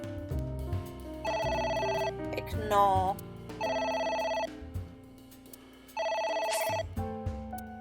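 A telephone rings in the video game AI: The Somnium Files, sounding three separate bursts of bright electronic ringing with short gaps between them, over soft background music; a voice speaks briefly.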